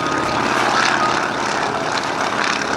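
A propeller airshow plane at NAS Oceana sweeps low over the ground, its engine a loud, close, continuous buzzing drone with a strong rasping tone and no talking.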